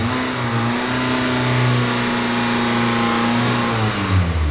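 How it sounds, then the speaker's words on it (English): A used car's engine revs steadily during a charging test, a loud, close, sustained drone with rising and falling pitch and no talking. "So now we're gonna rev the engine like it says."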